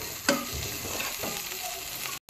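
Onion, garlic and chilli frying in oil for napa greens, a close, steady sizzle with a sharp clink of a utensil near the start and stirring scrapes, ending in a brief dropout.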